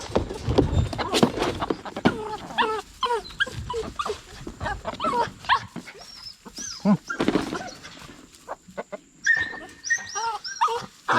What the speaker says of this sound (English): Well, my bird dog's going nuts.